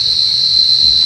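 Crickets chirp in a rapid, continuous high trill around a rural house at night, close and steady throughout, with faint low rustling beneath.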